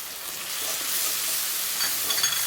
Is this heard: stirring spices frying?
yes